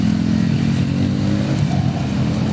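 A motorcycle engine runs loud and steady at a stunt show, a rough low rumble with harmonic tone and a slight rise in revs toward the end, with no voices over it.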